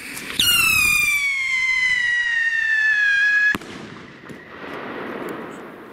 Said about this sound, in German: Jetzt eine Sirenenrakete in grün.